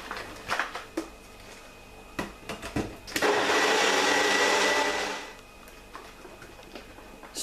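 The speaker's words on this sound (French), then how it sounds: "Je m'y reprends à plusieurs fois pour vraiment bien faire une bonne texture et bien tout mixer." A blender whirs loudly for about two seconds, pureeing dense, pasty chickpeas for a wrap filling, between scattered clicks and knocks as the jar is handled.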